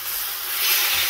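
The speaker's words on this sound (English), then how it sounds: "Right, let's get this bacon fried off." Thin bacon hits rapeseed oil in a cast iron pan with a brief, bright hissing sizzle that swells slightly over about a second, close and unaccompanied by talk.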